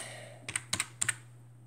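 Fingers tap a computer keyboard while typing chat in an online murder mystery game, a quick burst of about six close, crisp key clicks in pairs over a low steady hum.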